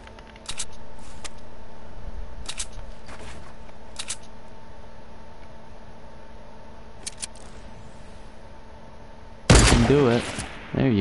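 Fortnite gameplay with several short bursts of gunfire scattered over a low steady background hum, followed by a louder, busier clatter near the end.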